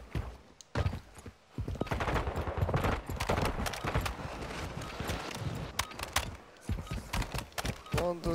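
Rapid bursts of gunfire crackle in Call of Duty Modern Warfare II Warzone 2.0, shotgun shots and clatter coming irregularly with some background commotion, fairly close.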